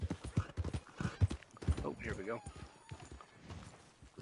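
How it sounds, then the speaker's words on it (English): Horse hooves clip-clop in Red Dead Redemption 2, a steady rhythm of close hoof strikes under someone talking throughout, with a brief whinny partway through. "Sometimes hitching your horse could be tricky."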